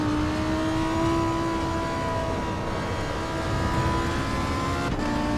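Lamborghini Revuelto engine in the driving game Assetto Corsa: a loud, continuous drone with a steady high whine, held near-constant with only slight shifts in pitch and no talk.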